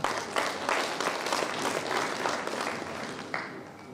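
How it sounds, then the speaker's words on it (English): Steady applause from an audience, a dense wash of clapping that holds for several seconds without pause. "Let's give him a round of applause."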